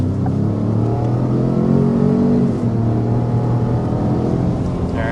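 A 2025 Cadillac Escalade's 6.2-liter naturally aspirated V8 drones loudly as it accelerates, a steady, slightly rising engine hum with a mild shift partway through and no talk.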